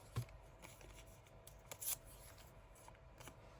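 Paper being ripped by hand for a junk journal makes quiet, close tearing and rustling, with a few sharp rips standing out against soft handling noise.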